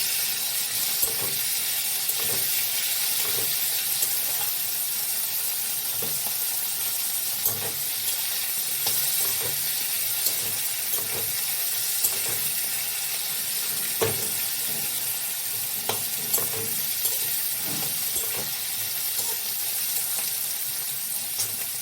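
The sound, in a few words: onion and potatoes frying and being stirred in pan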